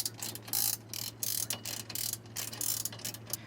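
A hand ratchet tightens nuts on SnapPad pads fitted to the scissor jacks of a 2016 Dutchmen Kodiak travel trailer, giving close, repeated bursts of metallic clicking with brief pauses between strokes.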